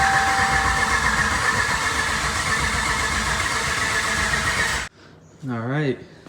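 A Ram pickup's Hemi V8 cranks and sputters as it tries to run, a loud steady churning drone close up for several seconds, then stopping abruptly before someone speaks.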